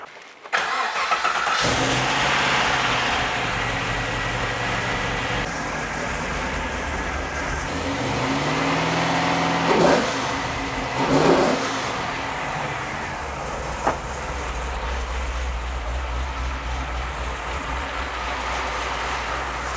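A car engine with low oil pressure cranks and catches, then runs loud and close, rising and falling through several revs before settling into a steady idle.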